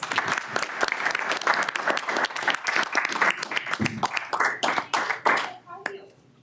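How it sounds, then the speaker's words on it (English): A round of applause at a transportation committee meeting, many hands clapping in a dense burst that thins into a few scattered claps and fades out near the end. "One more round of applause."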